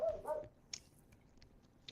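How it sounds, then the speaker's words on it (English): A dog gives a short bark or yelp at the start, close and moderately loud, followed by faint scattered sounds in a quiet podcast room. "Shut up, dog."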